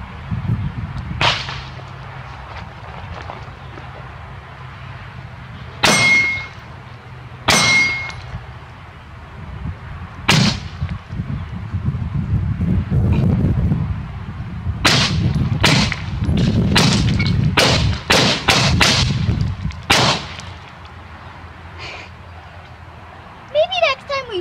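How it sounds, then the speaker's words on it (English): An AR rifle fired at a steel target and a pumpkin outdoors: sharp, loud cracks, some with a ringing metallic clang, come singly at first and then in a quick string, with talk between shots. "first I'm gonna shoot a couple rounds on the steel, and then"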